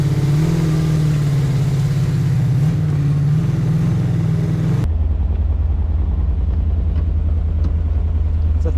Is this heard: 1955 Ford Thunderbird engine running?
yes